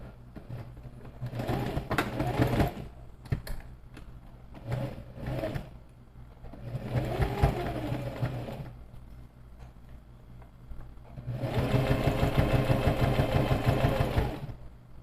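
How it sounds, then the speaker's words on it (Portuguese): A sewing machine topstitches beside a zipper in several bursts of steady, whirring stitching, with short pauses and faint handling clicks between runs, the last run longest and loudest. "E aí a gente vai passar uma costura de pesponto só aqui"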